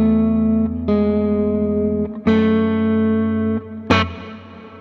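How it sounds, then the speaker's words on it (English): Sustained guitar chords ring through a CKK Electronics Infinite Reverb pedal, each strum blooming into a swirly, atmospheric wash. Several chord changes follow one another loudly and up close, with no talking. "it's got this really swirly kind of atmospheric-y reverb"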